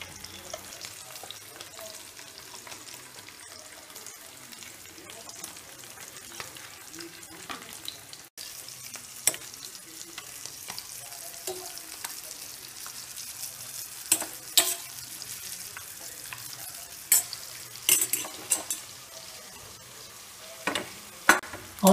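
Fish frying in a pan on a three-burner home stove during breakfast cooking, a continuous soft sizzle with occasional sharp crackles and pops that grow busier toward the end.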